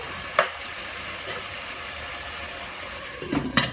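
Chicken tikka karahi sizzles steadily in a pan, a soft continuous frying hiss with a spoon knock near the start and a few louder scraping stirs at the end.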